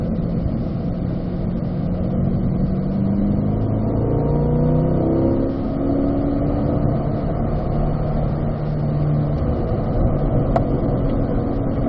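A car engine drives on a race track, with a steady, loud droning hum and rising and falling pitch as it works through corners, heard from inside the cabin.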